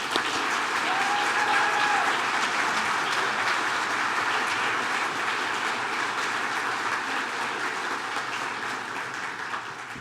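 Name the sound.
audience applause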